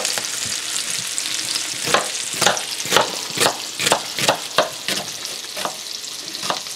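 Sliced garlic and celery sautéing in butter in a Le Creuset pot, a close steady sizzle punctuated by a rhythmic series of sharp utensil scrapes and taps as the pieces are stirred, no voices.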